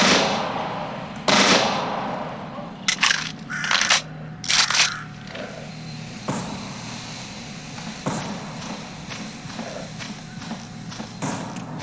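Short-barrel rifle with an 11.5-inch barrel fired in the game Anomaly, several sharp bursts of shots spaced across the clip amid quieter clatter and ambient rustle.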